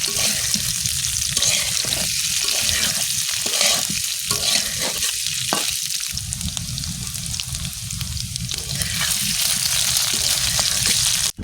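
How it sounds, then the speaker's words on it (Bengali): Potatoes fry in hot oil for Bengali aloo dum, a steady close sizzle and crackle with intermittent scraping and stirring from a utensil in the pan, no talking. "তো আমার আলুর দমগুলোকে ভেজে নেওয়া হয়ে গিয়েছে।"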